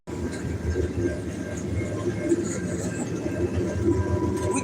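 A train rolling along a rail line once used for public transit in Charleston, South Carolina, with a steady loud rumble and rattle of wagons close by, continuous throughout.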